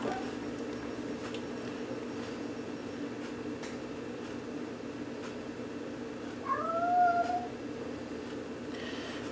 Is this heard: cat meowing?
yes